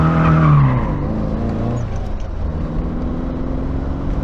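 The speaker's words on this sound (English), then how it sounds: "That's your second gear, it's a little bit of throttle, and it just slides itself around." A Triumph Dolomite Sprint slides around in second gear under light throttle, its engine giving a loud, close, sustained drone with a brief rising tire squeal early on, then a steady rumble.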